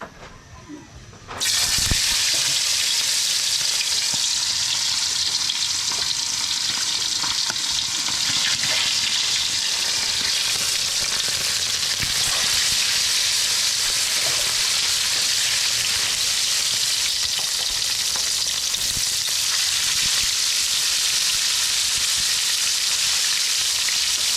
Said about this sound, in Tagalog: papainit na ako ng kawali, piprito natin